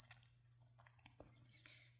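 Tiny feeder crickets kept indoors at night give a rapid, steady high-pitched chirping that pulses continuously and fairly softly, with faint small rustles beneath.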